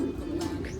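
A short, low pigeon coo, soft and close, heard alone without any talk.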